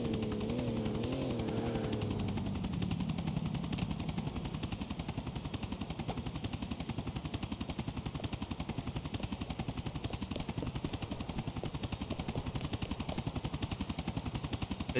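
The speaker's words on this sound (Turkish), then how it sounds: "Helikopteri mi düşüreceğiz?" Helicopter in the video game GTA 4, a rapid rotor chop and engine drone running steadily and close throughout, with a brief tonal sound near the start.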